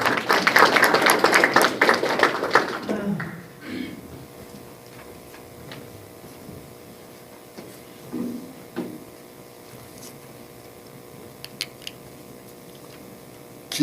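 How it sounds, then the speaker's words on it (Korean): An audience at the launch ceremony of the Ulsan branch of a presidential memorial association breaks into applause for about three seconds, then it fades into a quiet hall with a few faint knocks. "박수로 환영하겠습니다."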